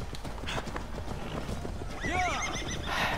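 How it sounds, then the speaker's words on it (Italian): A horse's hooves clip-clop steadily at a gallop in the video game Assassin's Creed Valhalla, then the horse lets out a loud whinny near the end, all over a busy game backdrop. "Corri cavallo"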